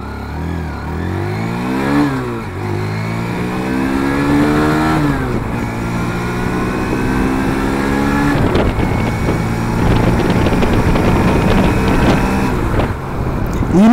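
A Hero Xtreme 160R 4V motorcycle rides along a highway, its engine loud and close, revving up with rising pitch, dropping between gear shifts, then pulling hard again.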